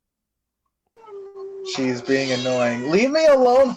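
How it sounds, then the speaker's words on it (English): A cat meows loudly and drawn-out up close, wavering in pitch, while a person speaks over it. "Speaking about cats, my cat's meowing right now."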